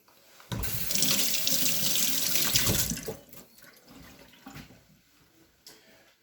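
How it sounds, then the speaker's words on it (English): A kitchen tap runs as a hand is rinsed beneath it, a loud close gush of water for a few seconds that then drops to softer trickling and dripping splashes. "And I'm just quickly rinsing off my hand there"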